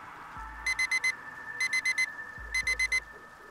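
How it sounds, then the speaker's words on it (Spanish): A phone alarm rings in three bursts of four quick electronic beeps each, evenly spaced and clear above a quiet background, with low thumps between the bursts. "El sonido de mi teléfono con la alarma me despertó de repente."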